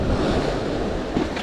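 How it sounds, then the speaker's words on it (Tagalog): Big ocean waves surge and wash in a brief, rough burst of surf, mixed with heavy wind buffeting the microphone, close and fairly loud. "Lalaki ng alon."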